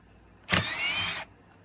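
A Porter-Cable impact drill runs in one short burst of under a second, a loud whirring rattle that starts sharply and cuts off, then quiet.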